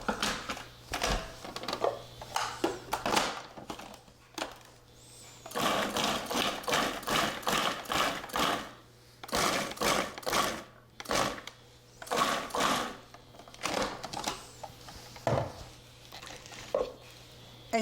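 A food processor dices white onions in quick bursts of choppy, whirring pulses with brief pauses between them, close and fairly loud, with no talking.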